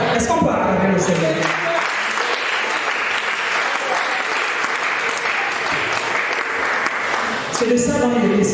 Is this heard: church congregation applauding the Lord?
yes